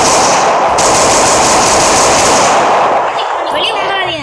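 Sustained, very loud automatic AK-47 fire in a Roblox game, a dense continuous rattle of rapid shots that dominates throughout and eases slightly near the end.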